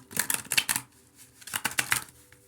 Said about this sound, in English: If I can shuffle this deck, all right?